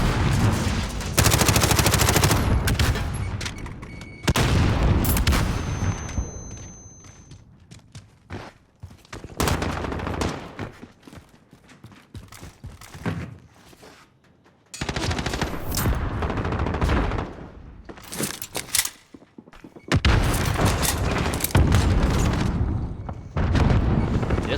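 Bursts of rapid gunfire and explosive booms from a competitive first-person shooter match, loud clusters separated by short quieter gaps.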